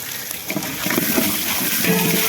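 Onions, green chilies and curry leaves frying in a pan, a dense, bright sizzling hiss with bubbling crackle throughout, close and fairly loud.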